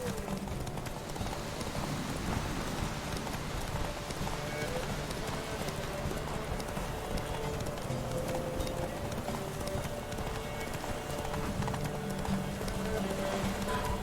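In The Witcher 3 on PS4, a horse gallops with rapid, rhythmic clip-clop hoofbeats that carry on steadily throughout, layered over the game's constant background ambience.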